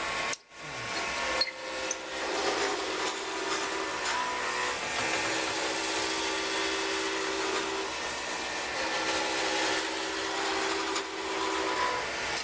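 A drill bores into an acrylic pen blank while a vacuum runs alongside, producing a steady close-up whir and hiss that holds for the whole stretch after a brief start-up.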